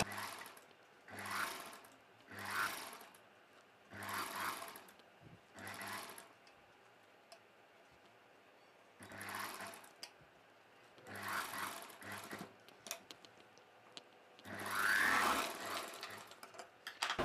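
A sewing machine runs in several distinct bursts of stitching separated by short pauses while a long dress is sewn, folding the fabric around a curved edge; each run is steady and close, with no talk.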